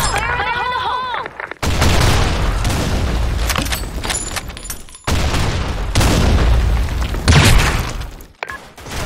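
Explosions and heavy gunfire in a first-person shooter video game, with loud booming blasts and crackling shots over several seconds, a voice heard briefly at the start.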